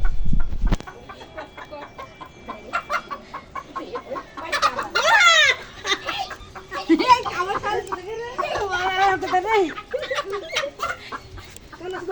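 A chicken clucks and squawks loudly while being caught, its calls rising into agitated bursts, close by, mixed with people talking and a sharp knock at the start.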